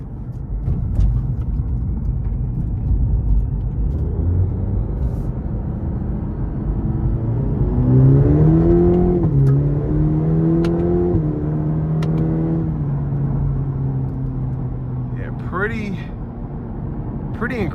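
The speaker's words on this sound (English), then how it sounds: "the exhaust has a little bit of a backfire to it, which I enjoy" A 2023 Cadillac CT4-V's 2.7-liter turbo four-cylinder accelerates hard from inside the cabin, its engine note climbing through the gears with a brief dip at the shift, loud and steady, with a little exhaust backfire crackle near the end and a driver talking over it.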